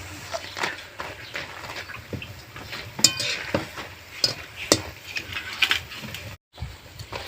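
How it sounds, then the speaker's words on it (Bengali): Lentils for a masoor dal recipe fry in hot oil with a steady sizzle, while a utensil scrapes and stirs in irregular clinks and knocks near at hand, and the sound cuts out briefly near the end. "দেখুন কতটা শব্দ, কি খুব ভালো করে আমি ভেজে নিয়েছি"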